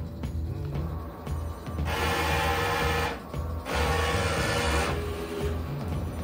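An XP600 tarpaulin printer with a DX11 printhead runs a nozzle test, producing steady mechanical whirring and ratcheting with two louder bursts of carriage movement. The sound is close and continuous with no talking.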